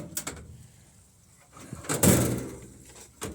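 A large drawer of a tool storage unit is pulled open hard, giving a loud sliding rumble that ends in a sharp knock, with a few softer clatters before it and another knock after.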